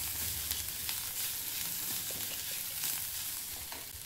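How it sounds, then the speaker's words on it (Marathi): Chopped onion with turmeric sautéing in a pan over a medium flame for onion-tomato chutney, giving a steady close hissing sizzle with a few faint stirring clicks and no voices. "थोडंसं परतून घेते।"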